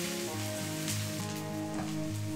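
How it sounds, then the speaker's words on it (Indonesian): Onions sauté in a wok of oil left from frying shrimp, giving a steady, close sizzle that crackles continuously without pause and with no talking over it. "ini kita akan tumis bawangnya."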